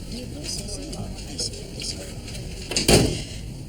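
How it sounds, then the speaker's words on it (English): A door shuts once near the end, a short thud in an office after quiet room tone and faint background voices. "Shut the door."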